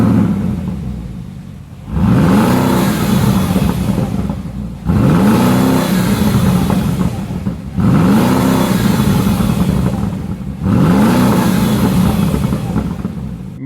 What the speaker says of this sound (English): Let's go ahead and take a look at that exhaust clip.